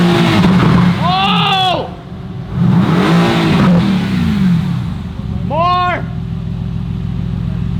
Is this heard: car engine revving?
yes